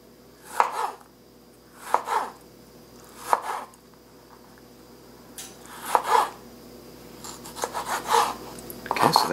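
A knife chops a tomato into small pieces on a cutting board, with about seven distinct, evenly spaced knocks followed by a quicker flurry of cuts, close and clear with no talking.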